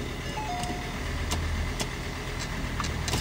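A Ford Everest engine runs steadily after the vehicle was sunk in water, giving a constant close rumble and hum with a few faint clicks on top and no talking.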